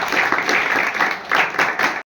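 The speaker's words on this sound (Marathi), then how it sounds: "नांझा टीम साठी एकदा जोरात टाळ्या वाजवा" Students and guests clap hard for the team at a Marathi ashram school farewell ceremony, a dense loud burst of hand claps with a few brighter swells, cutting off abruptly after two seconds.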